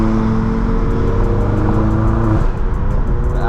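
A BMW E92 3 Series car closing in fast at night, its loud engine drone holding steady with harmonic tones that shift as it nears, a continuous close roar with no talk.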